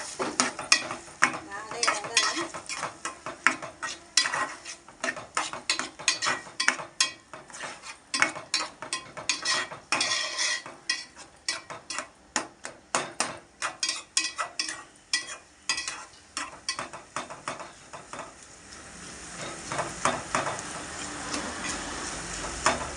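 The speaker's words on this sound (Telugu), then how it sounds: "పెట్టి ఆయిల్ వేసాను. ఉల్లిపాయ వేస్తున్నాను." Onions frying in oil in a pan for a korameenu fish and raw mango curry, a steady sizzle broken by dense clattering stirs and scrapes of a utensil against the pan, close and continuous, with no talking.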